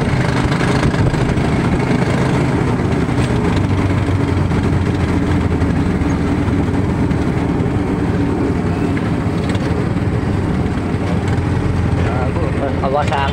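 Kawasaki Barako motorcycle engine running steadily on a tricycle, a continuous loud low rumble filling the whole stretch with people talking over it.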